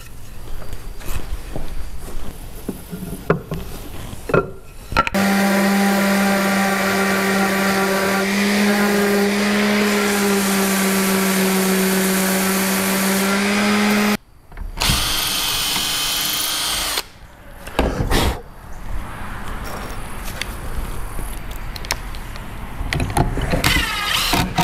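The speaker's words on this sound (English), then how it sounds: "Now it's over to the router table" A router table motor whines loudly at a steady pitch for several seconds, stops, then runs briefly again amid workshop clatter.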